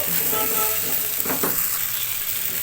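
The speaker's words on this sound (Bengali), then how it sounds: "এখন এইভাবে ভালো করে নেড়ে চেড়ে মিশিয়ে নেব" Raw jackfruit frying with spices in a pan while being stirred, a loud continuous sizzle with a few scraping spatula strokes close by, a faint tone buzzing underneath.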